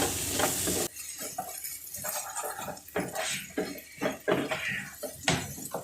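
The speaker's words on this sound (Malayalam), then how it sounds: "തക്കാളി ഇട്ടതിന് ശേഷം നന്നായി വഴറ്റിയെടുക്കണം." Chopped tomatoes stir into browned onions in a pan for a Kerala-style chicken curry. A soft sizzle sits under irregular clinks and scrapes of a spoon against the vessel, close and uneven in rhythm.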